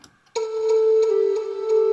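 Following a short pause, a sustained electronic tone enters abruptly and holds steady, with a soft pulsing in its upper notes.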